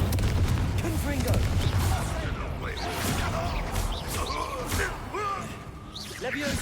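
Incendio and Confringo spell blasts in the Hogwarts Legacy video game burst repeatedly over dense combat noise, with booming impacts and sharp crackles running the whole time while voices talk underneath.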